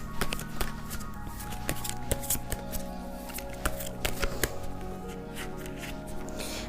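Tarot cards are shuffled by hand, producing repeated soft riffling flutters and light taps close to the listener, with faint background hum.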